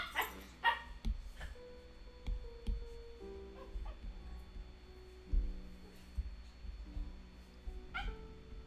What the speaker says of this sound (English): The sad little puppy noises after being humped.